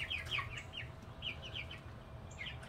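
Meat chickens inside a chicken tractor cluck in short repeated bursts, moderately close, over a steady low outdoor background hum.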